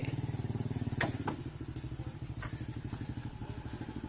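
Motorcycle engine running steadily with a rapid, even exhaust pulse, close and continuous throughout, with a few faint clanks and rattles over it.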